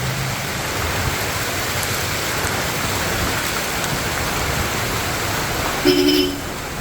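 Steady heavy rain hisses without pause in Cabuyao, Laguna, Philippines, a dense even wash of drops, with a brief higher tone near the end.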